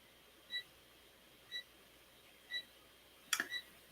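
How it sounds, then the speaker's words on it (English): Short electronic beeps repeat about once a second, fairly faint in a quiet room, with a brief clatter near the end. "there's something in my room that's beeping"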